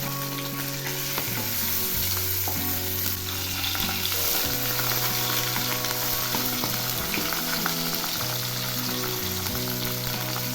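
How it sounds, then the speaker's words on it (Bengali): Pabda fish frying in mustard oil after being flipped, a continuous loud sizzle with frequent crackling spatters and the occasional clink of a utensil, no talking. "এক পাশ ভাজা হয়েছে, এবার আমি উল্টে দিচ্ছি।"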